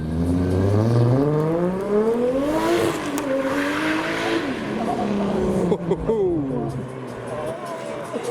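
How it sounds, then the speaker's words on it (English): An HKS-liveried Toyota Supra accelerates away from a car meet, its engine note climbing through the revs and then shifting as it pulls off, with crowd voices talking over it throughout. "I think the HKS Supra is leaving."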